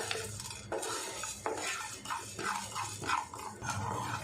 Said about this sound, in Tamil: இது எல்லாத்தையுமே லோ ஃப்ளேம்லேயே லைட்டாக ஃப்ரை பண்ணிக்குவோம்